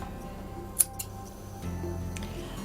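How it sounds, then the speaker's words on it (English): Scissors snip the fabric seam allowance of a sewn girl's dress, giving one crisp cut followed by a lighter click against quiet room noise. "You also might want to trim the seam allowance back a little bit."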